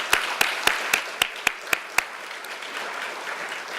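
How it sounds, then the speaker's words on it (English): Audience applause at a community foundation's annual awards ceremony, opening with a few sharp, evenly spaced claps that soften into a steady, moderate patter of hands. "Let's give them a round of applause too."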